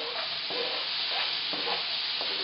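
Red onions sizzle in melted, browning butter with a constant close hiss, while a utensil stirs through them at a steady rhythm of roughly two strokes a second; no one speaks.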